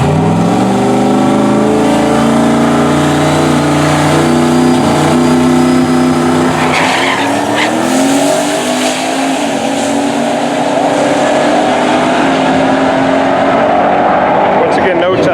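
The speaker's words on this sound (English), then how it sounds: "the wagon with the 88mm turbo is about to go down a second time" A Ford LTD wagon with an 88mm turbo launching down a drag strip, its engine roaring loud and rising in pitch as it accelerates hard, the strained note holding steady as the car pulls away.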